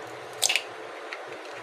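Beaten egg poured in small portions into simmering egg curry gravy in a pan, giving a short burst of wet squishy splashing sounds, then quieter bubbling. No one speaks.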